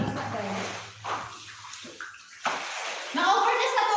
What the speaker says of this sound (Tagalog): Na-over na sa tubig!